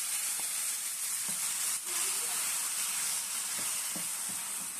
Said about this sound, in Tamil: நம்ம மசாலா நல்லா ஒரு 2-3 மினிட்டு நம்ம ஃப்ரை பண்ணிக்கலாம்.